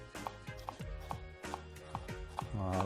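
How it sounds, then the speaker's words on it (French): A knife chops shallots finely on a cutting board, giving a steady run of crisp, close taps at a brisk rhythm with no talking. "on va ciseler les échalotes pour faire des petits morceaux"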